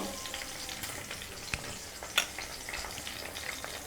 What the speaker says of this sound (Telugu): పొట్లకాయ ముక్కలు వేసేసి వేపిద్దాం